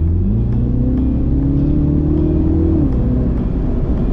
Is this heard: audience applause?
no